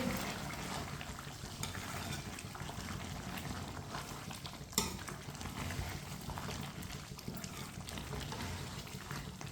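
Chicken with fresh coriander stirred in a pan, a soft continuous bubbling and sizzling with faint scraping, fairly quiet and steady, one brief sharper clack midway, no talking.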